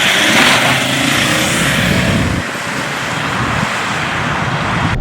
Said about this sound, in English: So here we are driving the Volvo XC90, and it's a thoroughly refined experience